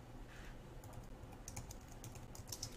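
HTML code typed on a computer keyboard, a steady close run of light key clicks with a few sharper strokes, no voices.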